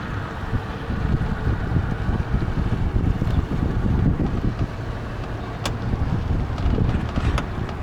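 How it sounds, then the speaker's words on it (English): A wooden felucca sailboat under sail alone, with no motor, on the Nile near Elephantine Island at Aswan, heard as a loud, steady rush of wind and water along the hull with microphone buffeting and occasional small knocks. "With a sail. It's indeed pure sailing here. No motorboat."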